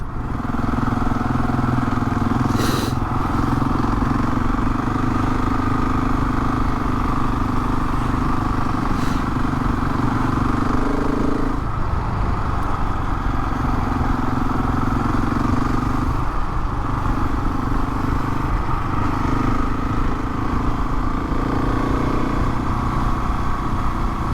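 Motorcycle engine droning steadily while riding in winter, a constant close hum with wind roar throughout and a few faint clicks and thumps, no talk.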